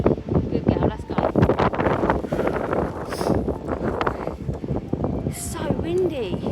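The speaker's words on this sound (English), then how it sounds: "It's so windy." Strong gale-force wind from Storm Claudia buffeting the microphone outdoors in the Lake District, a constant rumbling roar with gusty surges under a little background movement.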